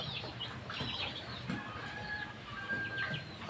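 Newly hatched ducklings make soft, high peeping calls, scattered and fairly quiet over a faint steady background.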